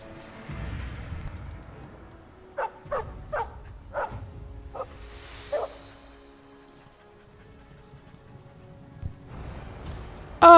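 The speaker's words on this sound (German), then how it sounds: "Ein kleiner Hund aber nur." A Mabari war dog in Dragon Age: Origins gives a series of short, sharp barks in a quick cluster, then a final yelp, over quiet game ambience and low murmuring.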